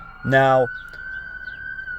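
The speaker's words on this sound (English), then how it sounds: "pardon the ambulance noise in the background" An ambulance siren wails in the distance as a steady, drawn-out tone behind a brief spoken word and continues alone afterward.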